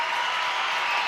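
A stadium crowd at a women's World Cup friendly between Zambia and Ireland cheers and applauds a goal, a dense, steady roar of clapping and voices with no pauses.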